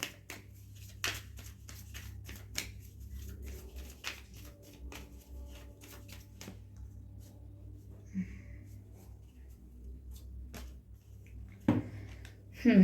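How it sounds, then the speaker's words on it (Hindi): Tarot cards being shuffled by hand during a love reading: quiet, rapid riffling flicks in short runs, with a voice talking faintly underneath. "Let's shuffle more."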